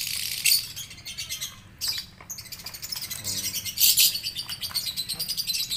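Pet lovebirds chirping in a cage during morning care, with rapid, high, chattering tweets in busy bursts that run through the whole stretch, close and fairly loud, with a few short gaps.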